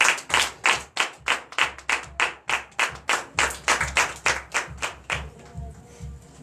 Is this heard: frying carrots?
no